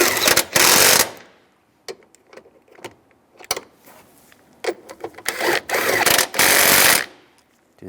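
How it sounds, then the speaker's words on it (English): A power tool tightens bolts on the EVAP core of a 2007-2013 Chevrolet Silverado, loud close bursts of buzzing separated by clicks, clanks and handling noises. "we're going to tighten these bolts down on the side first"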